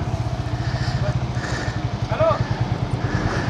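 A motorcycle engine throbs with a fast, steady pulsing beat close by while riding, as a voice talks over it.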